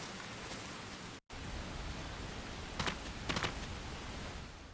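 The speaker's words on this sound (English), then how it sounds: "it's certainly raining very hard" Heavy rain in the video game Disaster: Day of Crisis makes a faint, steady hiss with a brief dropout and a few soft, crackling bursts. No voices are heard.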